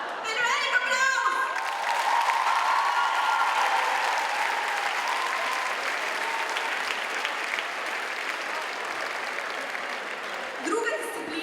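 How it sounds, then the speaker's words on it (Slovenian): A large audience at a charity school concert bursts into sustained applause that stays loud and dense before gradually thinning, with a few shouts and a voice over it at the start and end. "In velik aplavz."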